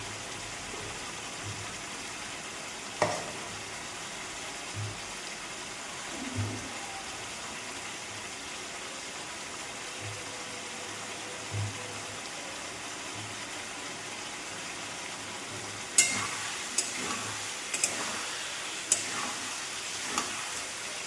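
Spices and cut vegetables (potato, long beans, radish) for Bengali chachchari frying in oil in a home kitchen, with a low steady sizzle, occasional soft stirring scrapes, and sharper clinks of a spoon near the end.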